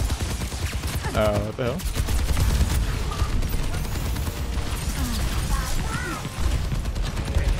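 Symmetra's weapon firing in Overwatch, a steady continuous rattling stream of shots amid game action, with a player talking over it.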